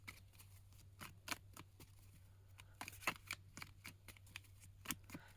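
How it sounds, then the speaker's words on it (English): Tarot cards are shuffled in soft, irregular riffles and taps, quiet and close, with no talking. "Let me finish shuffling and see if anything else comes out"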